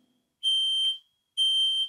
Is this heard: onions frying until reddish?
no